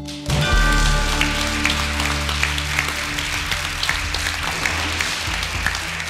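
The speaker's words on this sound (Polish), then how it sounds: "Oklaski, oklaski są za prawdę, za szczerość." Studio audience applause on a Polish truth-confession game show, a dense continuous wash of clapping that swells in quickly and holds steady for several seconds beneath a low sustained musical bed, with no talk over it.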